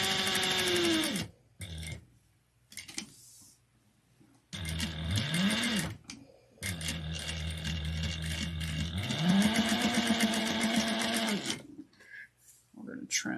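A sewing machine runs a straight-edge seam on a clutch wallet at about 1/8 inch, its motor whirring in several long loud bursts that rise and fall in pitch, with short pauses between runs.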